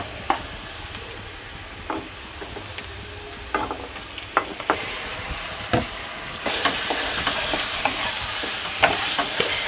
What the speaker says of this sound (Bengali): এবার আমি আদা রসুন পেঁয়াজটা দিয়ে দিচ্ছি